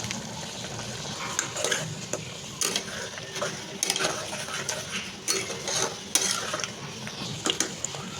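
Ground spices such as turmeric, black pepper, coriander powder and Kashmiri red chilli sauté in a pan, with a steady low sizzle and repeated scraping stirs and utensil clicks against the metal throughout.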